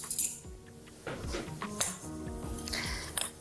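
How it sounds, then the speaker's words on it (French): A spoon mixes flour and dry ingredients in a bowl, giving close, quiet scraping and clinking taps against the bowl in an irregular rhythm, no speech. "Nous allons mélanger tout ça avec une cuillère."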